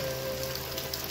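Heavy rain falling steadily in a dense, even hiss that holds at the same level throughout this short stretch, with no voices over it.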